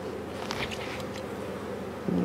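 Honey bees from a small swarm buzz on a hive frame close by, making a continuous droning hum with brief higher whines as individual bees pass.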